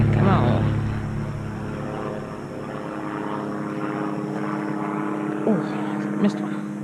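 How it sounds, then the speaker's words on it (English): A propeller airplane drones steadily overhead beside a small creek, a continuous engine hum running throughout the clip with a brief louder swell near the start and a couple of short knocks later. "Thank you, Mr. Airplane, for the great audio."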